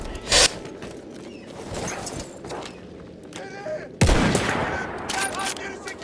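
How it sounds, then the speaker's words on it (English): Sniper rifle fire in the video game Battlefield 1 on a defense stage: two sharp loud shots several seconds apart amid battle noise, with faint voices in the background. "I'm gonna shoot some people with my sniper."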